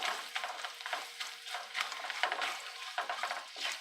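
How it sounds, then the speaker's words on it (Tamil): Broken papad pieces frying in a simmering kuzhambu, giving a steady close crackling sizzle with a scraping, stirring texture throughout and no talk. "அப்பளம் இதுலேயே நல்லா பொரியட்டு."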